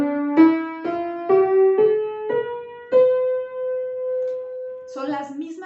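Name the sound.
major scale played on an instrument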